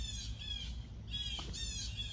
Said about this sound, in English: Ooh, they loud, y'all.